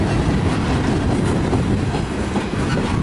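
A long CN freight train rumbles past close by with a steady, heavy roll of wheels and faint clattering over the rails, continuous throughout with no voices.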